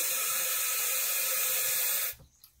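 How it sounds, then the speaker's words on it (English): Tap water runs in a steady hissing stream into a spray bottle holding fabric starch, then cuts off abruptly, leaving a few faint clinks. "And then add a little bit of water to it,"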